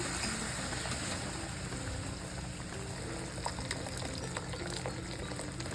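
Hot water pours steadily into a pan of sizzling, frying masala, with a continuous bubbling hiss throughout and no talking.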